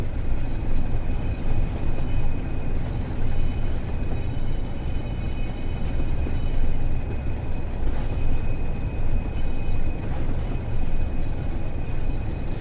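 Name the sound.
train departing in video game Train Sim World 4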